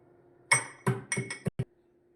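A whole nutmeg is cracked into pieces while preparing homemade tea masala, giving four or five sharp, hard knocks with clinking ring in a short burst, loud and close, with no talk.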